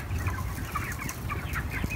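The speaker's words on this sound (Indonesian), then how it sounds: "Masih di kandang ayam kemitraan yang ada di Desa Aribaya" Chickens in a partnership coop in Aribaya village cluck and murmur continuously, a close, busy flock chatter with overlapping calls.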